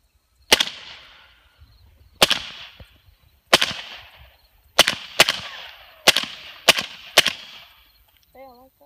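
Suppressed .300 Blackout rifle fired through an AAC 7.62 SD suppressor, eight sharp cracks with quick decaying tails, spaced irregularly with a few fired in rapid pairs, close and loud in an otherwise quiet outdoor setting.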